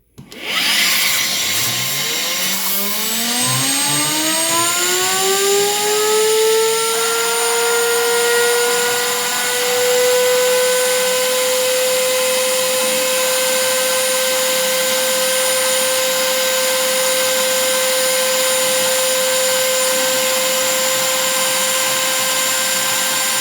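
A small Tesla turbine rotor spins up on a dynamic balancing machine, a rising whine that climbs quickly in pitch, then holds as a steady loud high tone until the end.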